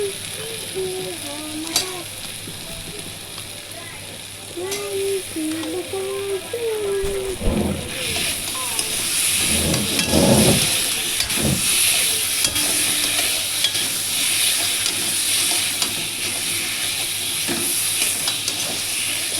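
Potatoes added to a pan of fried spice paste of onion, chili, ginger and ground coriander, sizzling and being stirred with scraping, clattering utensil strokes that grow busier and louder after the first few seconds, with faint background noise throughout.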